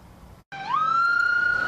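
A police siren at the scene of a high school shooting gives a loud, close wail that cuts off briefly, then rises and holds a sustained high tone.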